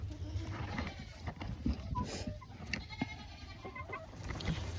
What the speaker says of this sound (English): I hear my goats.